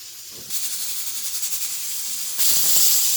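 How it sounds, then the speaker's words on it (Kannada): A pressure cooker's whistle releases steam while dal cooks on the fifth whistle, a sustained loud hiss that surges in pulses and swells louder toward the end, with no talking. "ಇದು ಲಾಸ್ಟ್ ವಿಷಲ್, 5ನೇ ವಿಷಲ್ ಕೂಗಿಸ್ಕೊಳ್ತಾ ಇದ್ದೀನಿ"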